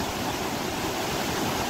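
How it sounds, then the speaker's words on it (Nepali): A swollen, rain-fed river near the Balason River rushes past in a continuous, dense roar, loud and steady with no pauses or voices. "खोला कस्तो बढेको रहेछ"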